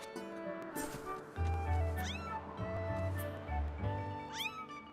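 A cat-lemur creature in The Legend of Zelda: Skyward Sword gives several close meows with rising chirps, layered over game music with a low bass line, with no talking.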